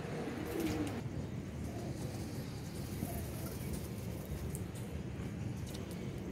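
Soft, low cooing from a pigeon, faint and brief, over a steady outdoor background hum.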